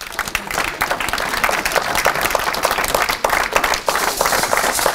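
A church congregation bursts into loud, sustained clapping and cheering for Maman Jackie, a dense crowd applause that fills the room throughout.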